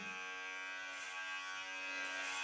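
Electric hair clippers with a gold-tipped blade buzz steadily and close up while cutting hair at home, a continuous bright motor hum with no talk over it.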